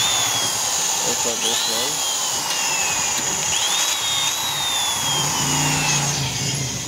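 A power drill with a 6 mm bit whirs continuously with rising and falling pitch as it bites into a damaged metal bolt, while a voice speaks briefly over it.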